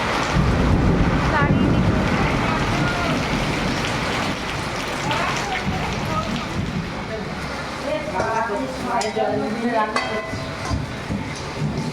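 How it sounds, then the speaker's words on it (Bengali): Heavy storm with strong wind and rain roaring steadily through a home kitchen during a birthday celebration, loud and continuous, with people talking over it. "এদিকে প্রচন্ড দুর্যোগ চলছে"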